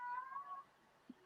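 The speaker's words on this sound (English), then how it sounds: "My cat's upset with that pick. I don't know if you heard him right there." A house cat lets out a single drawn-out meow near the microphone, clear and fairly quiet, followed by a brief soft sound and quiet room tone.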